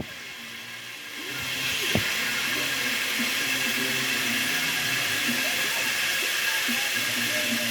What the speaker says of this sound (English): Now it's frying up very good,